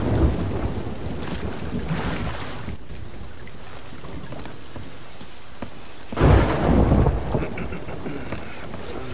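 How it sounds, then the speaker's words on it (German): Heavy rain pours steadily in a Sea of Thieves thunderstorm at sea, with a rumble of thunder near the start and a louder, closer roll of thunder later, and no voices. "Eieiei, Blitz und Donner."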